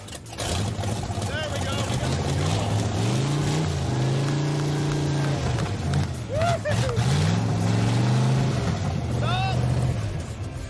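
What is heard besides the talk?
Pro Street Daytona car engine running and revving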